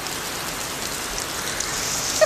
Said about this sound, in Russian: Ой, не штиль, а дождь.